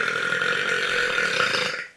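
One long, loud, continuous belch lasting nearly two seconds, close and alone, tapering off at the end.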